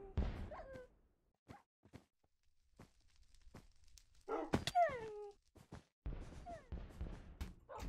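Puppies whimpering and yipping in the Minecraft Bedwars game, brief high-pitched whines scattered between short clicks and taps, with a cluster of rising whimpers near the middle and quieter yips later.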